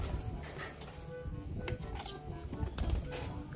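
Pigeons cooing in a loft where a Lutino hen is kept, soft low coos repeating close by over a steady busy background of rustling and bird sounds.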